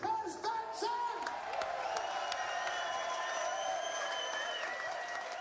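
A large crowd of Le Mans spectators cheers and applauds, steady distant clapping with whoops and horns or whistles ringing above the roar, moderately faint and continuous.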